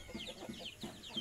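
Soft clucking from a hen and rooster of a village chicken breed in a steady, repeating pattern of short calls, fairly quiet and a little distant.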